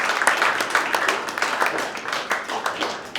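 Short burst of audience applause at a community event, a room of people clapping in uneven, overlapping rhythm, moderately close and fading slightly toward the end.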